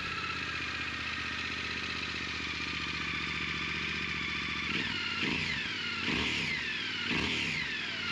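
A Yamaha Tenere 700 motorcycle idles steadily up close, then gets three or four sharp throttle blips that rise and fall in quick succession, with no talking.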